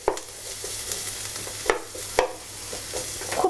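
Poha with potatoes and peanuts frying in a pan over a lowered flame, giving a soft steady sizzle broken by a few sharp scraping stirs of a spatula, close and moderately quiet, with no talking.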